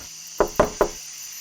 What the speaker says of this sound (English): Knock knock.